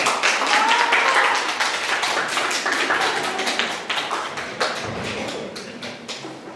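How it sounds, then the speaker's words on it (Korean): Applause from an audience welcoming a foreign student contestant to a Korean speaking contest at a Hangul Day event, a dense burst of close clapping that gradually thins over several seconds. "큰 박수로 모시겠습니다"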